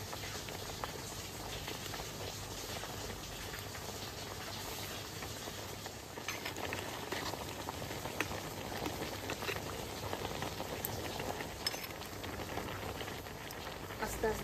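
Rice and pomfret fish boil together in a pot, giving a faint, even bubbling hiss that holds steady throughout.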